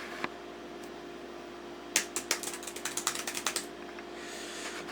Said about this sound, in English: Let's try typing.